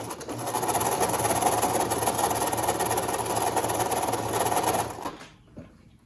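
A sewing machine stitches the edge of a children's washable fabric face mask, a loud steady whirring rattle running for about five seconds before stopping.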